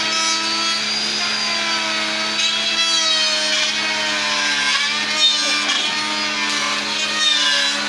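A woodworking machine cuts timber for door frames at a workshop in Kerala, a loud continuous whining drone with steady pitched tones and slight wavering, running without pause and no talk.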